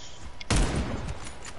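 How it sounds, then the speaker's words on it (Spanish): A burst of gunfire in a shooter video game, one loud sharp blast followed by a few fainter shots. "Mira todos los tiros que le meto a esa hija de su madre."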